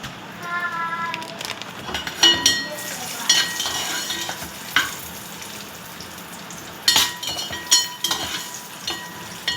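Raisins frying in ghee in an urli, a steady soft sizzle broken by sharp clinks and scrapes of a metal spoon stirring, with a voice talking over it.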